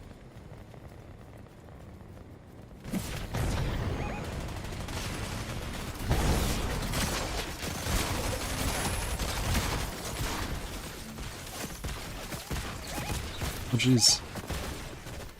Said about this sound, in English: Somebody was shooting at us.